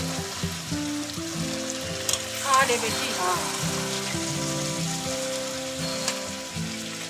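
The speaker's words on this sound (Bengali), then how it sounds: "মাঝে মাংসটা কষাচ্ছে" Meat sizzling in a pot as it is sautéed for biryani, a continuous moderate frying hiss with a brief stirring scrape, under a low background hum and faint voices.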